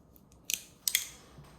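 Scissors snip open the packaging of a Dalstrong cutting board in two quick bursts of crisp cuts, close and fairly quiet against a hushed room.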